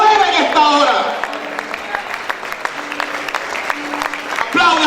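A congregation applauding during a Spanish-language evangelical church service, scattered clapping beneath sustained tones and a voice, louder at the start and end.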